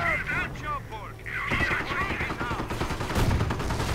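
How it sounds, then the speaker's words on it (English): Heavy anti-tank gunfire in a strategy video game battle, rapid overlapping shots and bursts sounding close and loud over continuous battlefield rumble and other game effects. "Stug coming under heavy anti-tank gunfire already"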